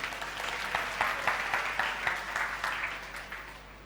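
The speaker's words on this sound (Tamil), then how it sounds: "கைத்தட்டு போங்க." Audience clapping at a Christmas church service, a short burst of steady applause from a gathered congregation that fades toward the end.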